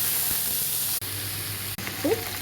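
Medium-cut raw banana pieces fry in oil with tempering spices, curry leaves and asafoetida, making a steady, soft sizzling hiss from close by.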